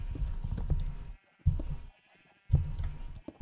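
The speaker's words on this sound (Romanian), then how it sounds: "Se aud oile de afară, nu știu dacă auziți voi" Sheep bleating outdoors in short loud bursts, separated by gaps of near silence, fairly close by.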